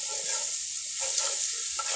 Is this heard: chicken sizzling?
yes